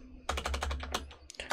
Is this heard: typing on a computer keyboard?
yes